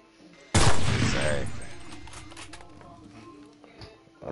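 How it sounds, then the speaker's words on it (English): A single loud Kar98 bolt-action rifle shot fires in a video game, a sharp broadband crack followed by a long, slowly fading echo and rumble. "You gotta hold your breath, hold the trigger to watch this shot."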